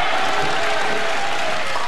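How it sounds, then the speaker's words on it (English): Crowd applause at a televised 1996 PBA National Championship bowling broadcast, a dense, steady wash of clapping that holds at an even level throughout without letting up. "So now the applause for the ball return."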